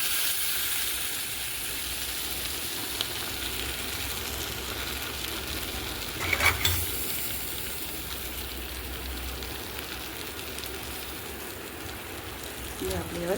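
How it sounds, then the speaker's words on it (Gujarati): Hot tempering of oil, asafoetida and red chili is poured into a freshly made chutney, producing a soft, continuous sizzling hiss with a brief louder burst midway. "અને આ વઘાર આપણે રેડી દેવાનો."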